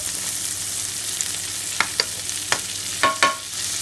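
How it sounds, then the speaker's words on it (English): A rib eye steak frying in a hot pan with butter, a continuous close sizzle punctuated by several sharp spoon clinks and spitting splashes as the fat is basted over the meat, with no talking. "We'll just start to baste the steak."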